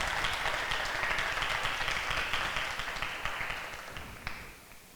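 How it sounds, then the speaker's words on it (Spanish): Sustained applause from an audience for participants at a church event, dense and steady clapping that fades out near the end. "un fuerte aplauso para los participantes"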